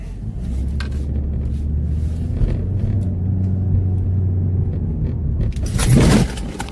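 A car in a video game rumbles along with a steady low engine drone, then crashes with a loud, short impact burst near the end.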